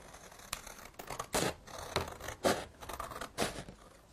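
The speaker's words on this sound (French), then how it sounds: "Je découpe les bandes." Scissors snip through strips of black paper in a series of short, crisp cuts, each a bright rasping burst with brief pauses between, close and fairly loud with no talking.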